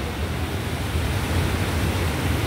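River current flowing in a delta of the river at Arayat, Pampanga, a steady broadband rush of water that stays constant and close throughout, with no talking.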